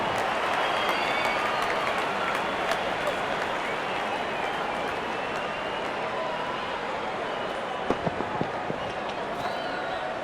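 Spectators at a cricket match applaud and cheer a boundary in a big, sustained wash of clapping and crowd noise, with a few sharper claps standing out near the end.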